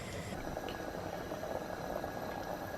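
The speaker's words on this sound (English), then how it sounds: "this is just coming onto the boil" Gooseberry and red onion chutney coming to the boil in a pan, a faint continuous bubbling hiss with soft irregular pops, steady throughout and with no talking.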